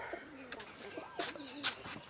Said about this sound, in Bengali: আমার কবুতর কি সুন্দর বাসা বানায় ডিম পেড়ে বসে আছে